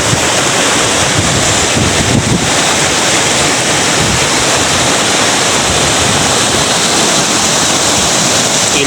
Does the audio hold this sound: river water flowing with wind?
yes